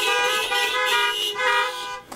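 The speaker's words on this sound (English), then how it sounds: "Can we give a little honk to" Car horns honk during a drive-in worship service, several loud overlapping toots in sustained blasts that pause briefly and resume, close and dominant with no talking.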